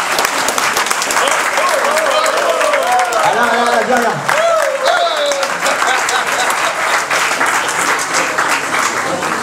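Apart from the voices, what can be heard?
audience applauding the team staff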